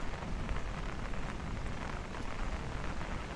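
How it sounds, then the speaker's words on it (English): Steady rain pours down over a Brooklyn street during a heavy thunderstorm, with low, continuous rumbling of thunder blended into the dense, even hiss of rainfall throughout. "There's a constant rumbling of thunder"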